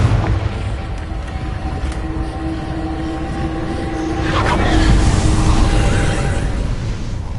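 A Confringo fire spell explodes in Hogwarts Legacy, a low muffled boom that swells around the midpoint over a steady rumbling game ambience.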